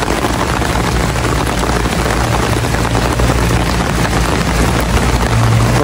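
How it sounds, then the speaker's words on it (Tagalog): Steady rain falls outdoors in Atok, Benguet, a dense, even hiss with a low rumbling undertone running throughout, loud and continuous with no voices. "Ulan dito."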